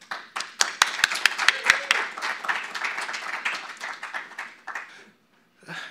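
An audience claps to welcome keynote speaker Uri McMillan, starting with a few sharp individual claps and swelling into steady applause before it tapers off and stops near the end.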